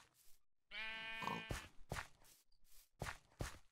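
A sheep in a Minecraft farm village lets out one clear bleat, followed by several crunchy footsteps on the ground.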